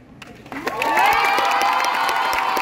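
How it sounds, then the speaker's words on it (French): An audience at the Japan Expo cosplay contest breaks into loud applause and cheering, building quickly from a faint start into a sustained roar of clapping and shouts. "On les applaudit bien fort!"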